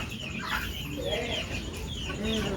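Free-range native chickens cluck and call close by in a steady, busy flock chorus, with a rooster-like call rising near the end; no talk is heard.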